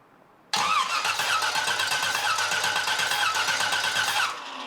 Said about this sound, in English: I disabled the fuel pump or disabled the ignition and turn the engine over